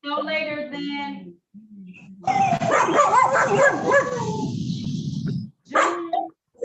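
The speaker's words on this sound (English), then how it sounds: "Mute yourself, because you got dogs and stuff." Dogs bark and yip loudly and repeatedly in a burst of several seconds during a court hearing held over a video call, with a person talking just before and after the barking.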